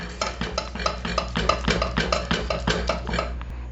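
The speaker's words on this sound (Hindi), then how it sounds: "इसको अच्छे से मिक्स कर लूंगी। ये गैस बंद करके हमें मिक्स करना है।" Heavy canned cream being stirred into a chocolate basbousa mixture in a pot off the heat, a spoon scraping and knocking the sides in a steady, repeated rhythm, close and clear with no talking.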